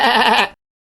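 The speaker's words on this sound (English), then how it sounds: "Sheep." A sheep bleats once in a children's animal flash-card sequence, a short loud wavering baa that cuts off abruptly, heard alone and close.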